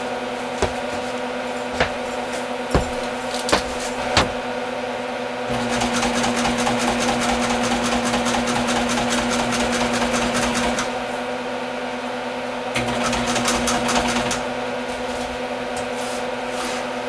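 Sewing machine stitching the edge of a Peterbilt truck door panel: a few sharp knocks first, then a fast steady mechanical whir for several seconds, a pause, and a second shorter run.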